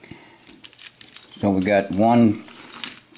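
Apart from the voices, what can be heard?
box of locks being handled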